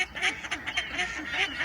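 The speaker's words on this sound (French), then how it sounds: "Nos amis les canards." Several ducks quacking close by at a rest stop in Cambron, in quick, overlapping nasal calls, a short lively burst of squawking.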